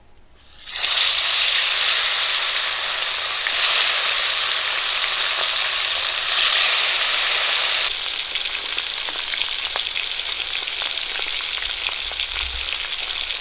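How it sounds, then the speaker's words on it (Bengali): River fish dropped into hot oil bursts into a loud, steady sizzle that holds for several seconds, then settles to a softer crackle with scattered pops. "তেলটা এদিকে গরম হয়ে গেছে মাছ দিয়ে দেবো এখন"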